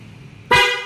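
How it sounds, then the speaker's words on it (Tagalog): A loud, bright horn blast from a Honda ADV 160 scooter's alarm system starts suddenly after a faint background hum and holds steadily, close up. "Para mapabalik sa loud horn, touch natin ito ulit."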